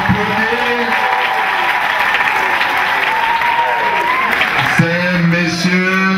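An audience gives sustained applause to a guest who stands up at a meeting, dense clapping throughout with a voice heard partway through.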